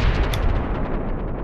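A weapon shot in the space survival game Empyrion Galactic Survival lands as a loud, booming blast with a rumbling low-end tail, a single burst heard alone.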